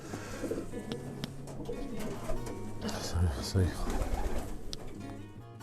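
Racing pigeons bred for short-distance races coo softly in a loft, low repeated coos under steady background noise while people talk nearby.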